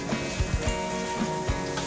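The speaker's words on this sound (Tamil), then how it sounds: "இப்ப வதங்கிறதுக்குள்ளேயே இந்த அரைத்த இஞ்சி பூடையும் போட போறேன்" Ground ginger garlic paste sizzles as it goes into onions sautéing in a pan for chicken curry, a steady, soft frying hiss with a few light stirring thumps.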